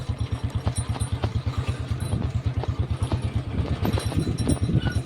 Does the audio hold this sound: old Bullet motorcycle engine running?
yes